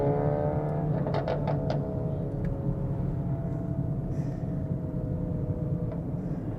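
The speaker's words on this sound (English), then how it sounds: "That's a pretty loud exhaust." A 1999 four-wheel-drive Toyota Sprinter Corolla with a loud exhaust drones steadily at close range, a low rumbling tone that rises briefly in pitch as the engine revs, with constant road noise underneath.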